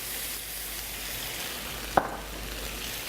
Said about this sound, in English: All right, hear that sizzle.